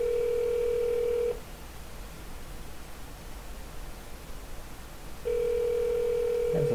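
A telephone call being placed back: two steady, fairly loud electronic ringing-tone bursts, split by about four seconds of quiet line hiss, with no one speaking.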